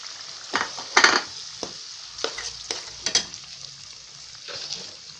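Ginger, garlic and green chili frying in a pan for a dhaba-style chicken curry masala as onion is added and stirred, with soft sizzling under sharp scraping strokes of a spoon, several in quick bursts.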